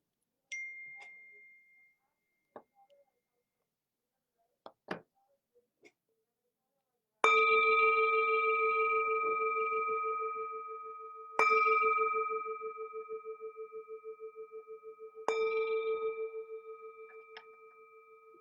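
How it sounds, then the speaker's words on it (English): A meditation bell is struck three times, each ring sustaining a long, clear shimmering tone that slowly fades, after a few soft taps and clicks. "The sound of this beautiful bell returns us to our true home."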